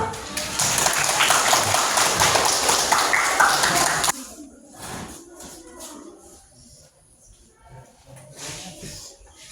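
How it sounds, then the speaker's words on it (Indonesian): A burst of clapping from a group lasts a few seconds and then stops abruptly, followed by quieter room sounds. "Tepuk tangan dulu."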